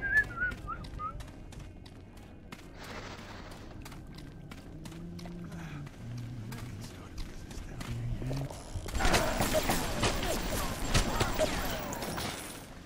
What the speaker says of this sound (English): everyone just keeps whistling with all this going on